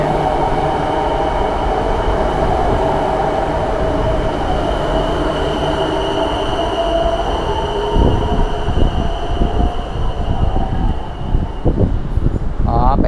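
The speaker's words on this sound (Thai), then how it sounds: "คนขับรถต้องเปลี่ยนไปขับทางเบื้องฟ้าพุ่นมา" A Bangkok skytrain runs along elevated rails and switches direction, a loud steady rumble with whining tones, then clattering wheel beats and a brief squeal near the end, with faint voices underneath.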